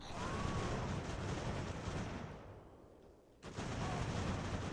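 Massed musket volleys and canister fire from a battle in Ultimate General: American Revolution, a dense continuous roar of gunfire that dips briefly near the end before surging back, with no voices.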